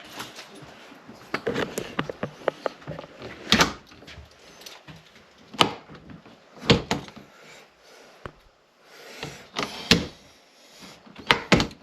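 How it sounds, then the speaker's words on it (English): A house door is pushed and forced shut during a handyman repair, heard as a series of thuds, knocks and rattles with scraping between them, fairly close and with no talk. "I have a feeling the door's not going to shut properly at all now."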